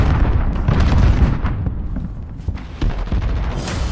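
Grenade explosion in Call of Duty Modern Warfare VR: loud booming blasts with rumbling low end, followed by further bursts and crackles of gunfire.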